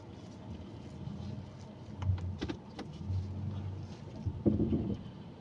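A Toyota Innova hybrid drives along a road, its steady low cabin rumble and road noise continuing throughout, with a few faint clicks and knocks over it.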